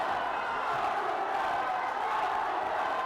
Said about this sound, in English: The crowd noise is almost deafening here